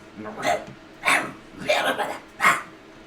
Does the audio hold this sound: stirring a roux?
no